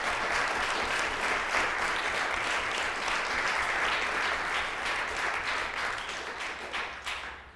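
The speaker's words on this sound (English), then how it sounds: "Let's all give them a round of applause." An audience at a village council meeting applauds steadily for several seconds, a dense wash of clapping from many hands that tapers off at the end.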